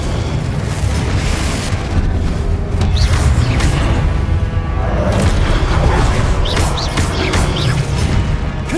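Confringo and Incendio spell blasts during combat in the Hogwarts Legacy video game, a loud, nearly continuous barrage of booming explosions, fiery bursts and whooshes.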